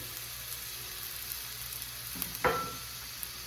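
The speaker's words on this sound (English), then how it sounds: "We want to saute the onion without necessarily making it brown." Onion sautéing in a pan over a high flame gives a steady, quiet sizzle throughout, with a brief louder scrape or clink of a utensil near the end.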